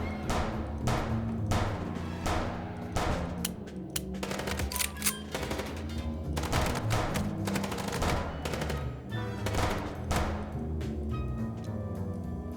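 Rapid video game gunfire keeps up without a break, with repeated sharp bursts and automatic volleys over a busy background, loud and close throughout.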